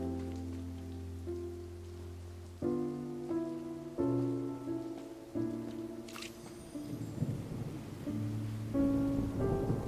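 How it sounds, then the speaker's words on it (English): Steady patter of rain on a surface runs throughout in the video game Genshin Impact, mixed with sustained musical tones and a brief brighter burst partway through. "It's raining!"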